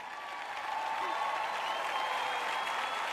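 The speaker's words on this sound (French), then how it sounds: "Ok, applaudissez-les." A burst of audience applause at a sermon, steady clapping from a crowd that holds at an even level throughout, with a few voices mixed in.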